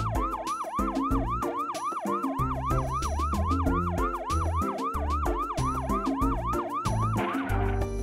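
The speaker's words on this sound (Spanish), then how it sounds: "¡Camión de bomberos!" A loud fire truck siren sweeps up and down in rapid repeated cycles, sounding close, over low engine rumble.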